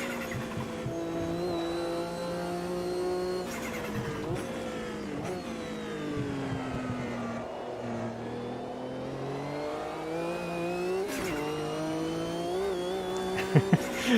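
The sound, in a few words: race car driving over curbs in video game Automobilista 2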